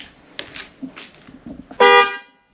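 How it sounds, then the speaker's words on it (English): Upgraded dual-note horn on a 2016-2019 second-generation Chevy Cruze blasts once, loud and close, for about half a second after some quiet handling noises. "It sounds like a real horn now."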